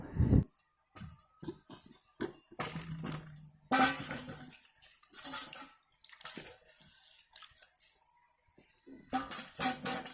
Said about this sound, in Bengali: আমি এই পটলগুলো ভালো করে জলের মধ্যে ধুয়ে নেব